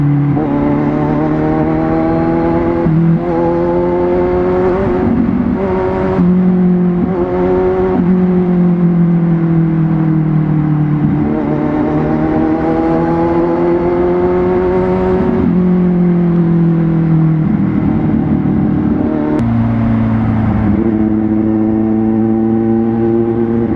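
Kawasaki Z1000 motorcycle engine with a Zero One Moto exhaust, loud and close, revving repeatedly in rising and falling sweeps with a deep, throaty tone, no talking.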